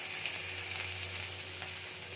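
Finely chopped onions frying in oil in a pan, a continuous even sizzle held at a low, steady level throughout, with no talking.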